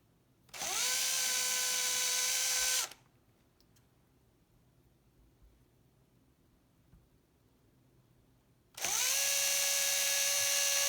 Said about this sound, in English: Just make sure you drill those holes nice and straight so the screws go in nice and straight.